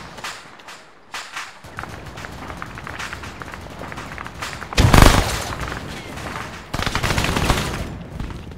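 A frag grenade blast and bursts of gunfire in a military video game, scattered shots building to a loud crack, then more sustained rapid firing toward the end.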